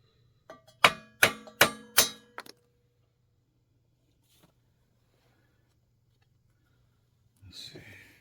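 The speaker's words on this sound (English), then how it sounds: "Got us a center punch from Don't Worry About It Industries, and we finna make us a indent in the middle so we can drill us a hole." A hammer strikes a center punch about five times in quick succession, making sharp metallic clinks to mark an indent for drilling, followed by quiet and a faint rustle near the end.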